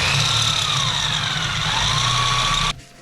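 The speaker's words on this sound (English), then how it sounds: "I'm going to drill a hole in either end" An electric drill bores a 1/4 inch hole in steel loader forks, giving a loud, steady motor whine with a slight pitch sag under load that cuts off abruptly near the end.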